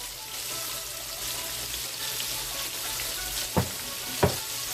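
Pieces of shark frying in hot oil reused from frying bakes, a steady even sizzle and crackle with two brief sharp pops near the end, no voices.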